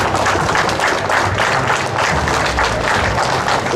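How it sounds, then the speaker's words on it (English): A loud, dense crowd applauds the athletes at a mas-wrestling world championship in Columbus, steady clapping from many hands filling the whole moment. "One more round of applause for all the athletes."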